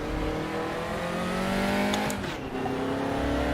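Race car engine in the RaceRoom sim racing game, a loud sustained close roar with shifting revs and a brief dip as gears change.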